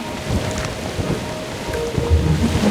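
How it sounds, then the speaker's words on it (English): Steady rain ambiance with low rumbling thunder in the puzzle game Monument Valley 3, a dense hiss of falling rain throughout and a deeper thunder roll swelling near the end, no voices. "I love the rain ambiance"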